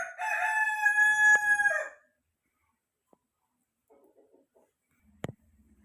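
A rooster crows loudly and close by for about two seconds on a farm with silkie chickens, followed by near silence broken by a few faint clucks and one sharp knock.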